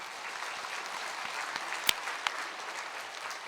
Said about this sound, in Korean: 우리 하나님 주시는 힘을 얻을 수 있도록 격려의 박수 한번 주십시다